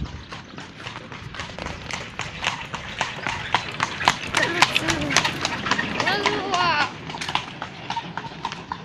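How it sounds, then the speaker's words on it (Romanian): A horse clip-clops along a street on a hot day, with steady, fairly close hoofbeats in a brisk rhythm throughout while people talk over it. "Oamenii se duc cu calul pe stradă."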